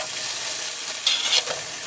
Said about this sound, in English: we're going to go ahead and start by adding our green peppers and our onions